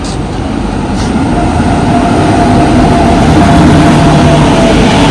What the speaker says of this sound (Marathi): आता आली ट्रेन